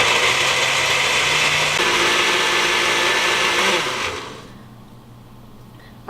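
A kitchen blender whirs loudly and continuously while blending mango with sugar and milk, its pitch dropping slightly partway through before the motor winds down and stops, leaving a quiet room.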